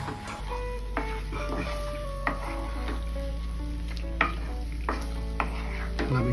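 A quarter kilo of chicken is stirred and sautéed in a pan for Tamil chicken gravy, with a steady sizzle broken by intermittent scrapes and clinks of the spoon against the pan.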